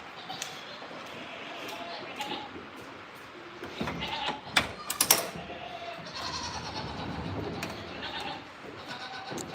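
Goats on a goat farm bleating several times, short calls scattered among background noise and rustling, with a few louder cries in the middle and people talking nearby.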